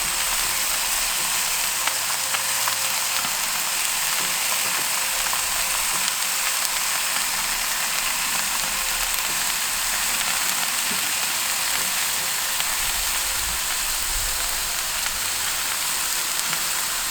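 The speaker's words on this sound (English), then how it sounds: "Put some more bacon on here." Bacon sizzling on a kamado grill for a barbecue fry-up breakfast, a steady close crackle and hiss running continuously without pause.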